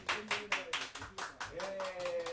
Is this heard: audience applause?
yes